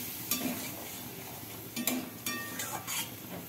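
Fish curry with pumpkin and mustard sizzles in the pan after water is added, a steady frying hiss broken by several clinks and scrapes of a stirring spoon.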